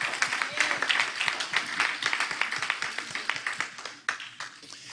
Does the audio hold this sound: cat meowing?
no